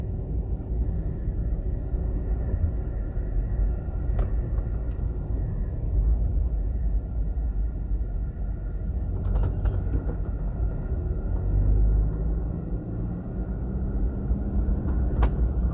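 Heavy traffic on busy Waterloo Road in Jamaica: a constant low rumble of passing vehicles, with louder swells as cars go by close.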